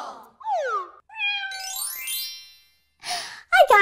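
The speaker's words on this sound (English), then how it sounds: "Hey, did I hear a cat?" A cartoon cat meows several times in quick succession, close and clear, with short rising and falling cries separated by brief pauses and a soft sigh-like breath at the end.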